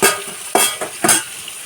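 Kanmagur fish fries in a pan close by, with three sharp bursts of crackling, spattering sizzle and a quieter hiss between them.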